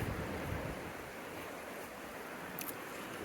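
Steady rushing water fills the clip, a continuous broad wash of flowing creek noise at Mt Ascutney Resort, Vermont, with a faint brief chirp near the end.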